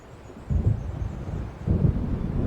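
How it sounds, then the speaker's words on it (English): Thunder from an approaching storm in Alan Wake Remastered, two low deep rumbles rolling in one after another over a steady hiss of wind and rain, moderately loud with no talking. "It seems there's a storm coming."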